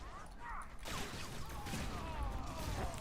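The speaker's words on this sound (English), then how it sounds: "Good explosions over there." Explosions in the video game Star Wars: The Old Republic burst in rapid fusillade-like volleys, a sudden loud onset followed by rumbling, crackling blasts that continue densely to the end.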